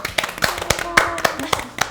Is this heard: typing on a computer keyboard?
no